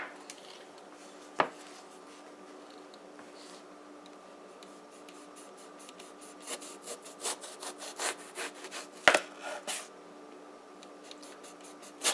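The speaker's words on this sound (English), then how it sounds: "So we're going to go slice our Baigan now," Eggplant (baigan) sliced thinly with a knife on a board, giving a run of soft, close cutting strokes that quicken into a rapid rhythmic series toward the end, with a few sharper knocks.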